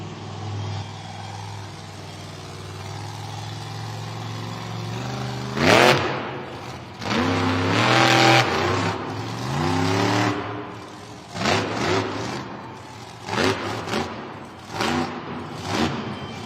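Monster truck Jurassic Attack engine revving hard through repeated loud bursts and swells during a wheelie at a Monster Jam stadium event in Cleveland, over a steady background crowd roar.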